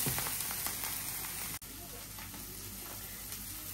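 Bitter gourd and small chopped shrimp fry steadily in a pan, with a continuous close sizzle and a brief dropout partway through.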